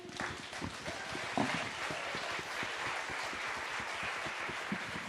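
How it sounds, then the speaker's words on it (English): A conference audience gives a round of applause to the speakers: steady, moderately distant clapping from a crowd, fairly even in intensity throughout with scattered sharper claps. "So first a big round of applause to our speakers."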